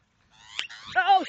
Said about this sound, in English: More birds attacking me.